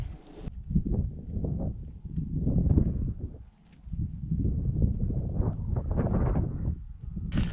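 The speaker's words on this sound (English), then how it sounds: "who cares if it's windy?" Wind buffets the microphone in heavy, irregular low gusts that swell and fade, close and loud, with no voices, at a wild camp in the Shropshire hills.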